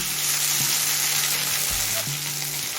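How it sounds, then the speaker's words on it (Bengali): Chopped capsicum frying in a pan for a veg dal, a steady close sizzle running throughout with occasional stirring knocks and scrapes. "এবার ক্যাপসিকাম কুচিটা দিয়ে দিচ্ছি ক্যাপসিকামটা দিয়ে মিনিট দিয়ে ভেজে নিলাম"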